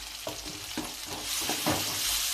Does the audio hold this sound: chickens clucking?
no